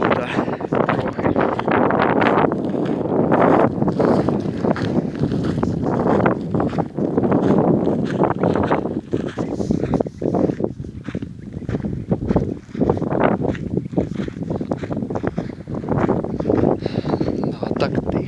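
Wind blows steadily and gustily across the microphone at the bottom of a ravine in open fields, a rough rushing noise that rises and falls throughout.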